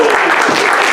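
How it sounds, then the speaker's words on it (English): Audience at a Royal Institution rocket demonstration breaks into loud, dense applause, a close, continuous wash of clapping with no talking. "give Susan a round of applause."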